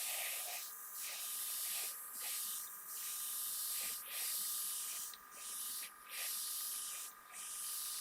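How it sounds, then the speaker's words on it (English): Spray can hissing as black paint goes onto the body of an Aoshima 1/24 scale Knight Rider model car, in repeated short bursts of about a second each, close and fairly steady, with no one talking. "You can actually see where I'm spraying"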